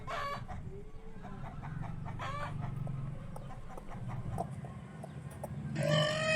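Chickens clucking in short repeated bursts, with a rooster-like call rising near the end, fairly close over a low background hum.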